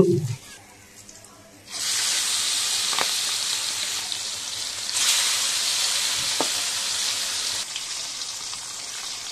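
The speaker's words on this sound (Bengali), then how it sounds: "পরের মাছগুলো ভেজে নেব, একই রকম করে হালকাভাবে ভেজে নেব" Koi fish pieces lightly frying in hot oil in a pan: after a brief quiet moment the oil bursts into a loud, steady, close sizzle that swells midway, with a couple of sharp clicks.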